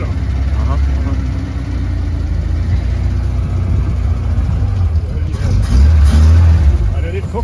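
A car with a 2.0 engine runs close by at Løkken beach, a steady low rumbling drone that swells briefly near the end as if revved, with voices murmuring faintly underneath.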